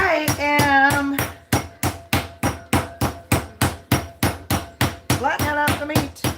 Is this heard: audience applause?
no